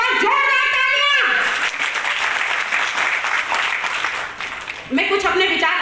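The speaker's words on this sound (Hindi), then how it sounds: "तो इसके लिए भाई साहब के लिए एक बार जोरदार तालियां।" Loud audience applause at a large community convention, a dense wash of clapping that rises between stretches of amplified speech at the start and end.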